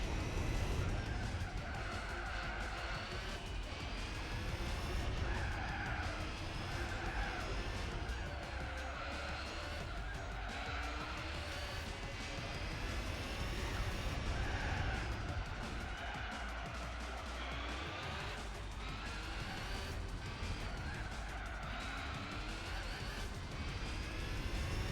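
Race car in Gran Turismo 4 at speed, a continuous loud engine drone with shifting pitch and tire noise, steady throughout without pauses.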